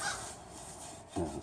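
Crows caw outdoors, a couple of short harsh calls at moderate distance over faint background hiss.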